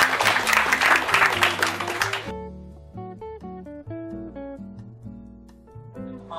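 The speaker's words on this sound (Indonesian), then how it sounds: "untuk penulis dan penerbitnya dapat tepuk tangan" Hall audience at a book launch and discussion clap for the author and publisher, a loud burst of dense applause lasting about two seconds before it cuts off abruptly into tonal instrumental music.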